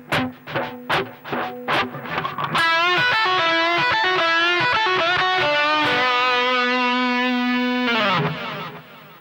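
Distorted electric guitar plays a minor pentatonic lick: a run of quick picked notes, then a sustained bent note ringing out loud and alone before fading.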